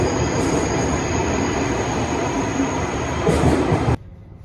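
Steady rumble and rattle of a Swiss train in motion between Zurich airport and Winterthur, loud and continuous, with faint squealing, cutting off abruptly near the end.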